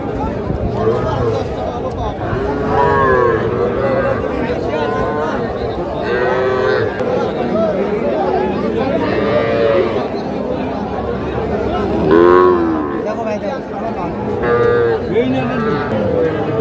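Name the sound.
calves mooing at a cattle market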